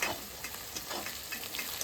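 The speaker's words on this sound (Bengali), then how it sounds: "আমার পেঁয়াজটা ভাজা হয়ে গেছে" Onion frying in a pan, a steady close sizzle with soft crackling pops throughout, loud and even with no voices.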